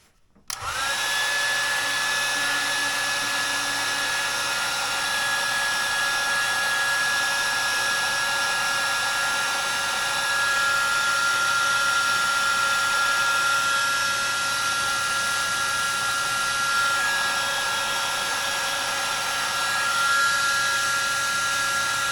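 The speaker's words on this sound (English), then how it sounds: "I'll put this thing down over it and hit it with the heat gun" A heat gun blows hot air in a steady, loud whoosh with a faint whine, running unbroken and alone, used while working on wiring in a 1985 BMW 635 CSI.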